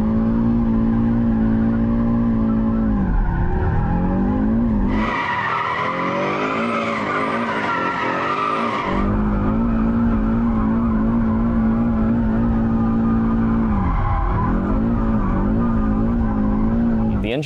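An Audi RS3 in drift mode, its tires squealing loudly and continuously over a roaring, revving engine, with the pitch dipping and swelling as the car slides.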